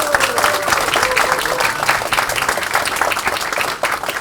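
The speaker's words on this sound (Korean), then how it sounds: "여러분 공감하시면 박수 한번 보내주십시오" Sustained applause from a large crowd at a Democratic Party of Korea rally launching a Gyeonggi Province local election campaign committee, loud and dense throughout with a faint voice briefly audible early on.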